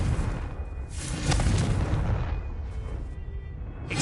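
Confringo blasting-spell explosions in Hogwarts Legacy during free roam, a broad rumbling boom that swells and trails off with smaller crackling bursts afterward.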